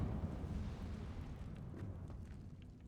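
A fire spell cast in Hogwarts Legacy: a steady, loud low roar and rumble, like a sustained fiery blast, fading slightly over about three seconds with no voices.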